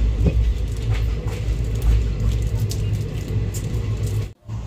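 The Silchar Kanchanjangha Express passenger train runs along the track near Nabadwip Dham, heard from inside as a continuous low rumble and rolling clatter with a brief dip near the end.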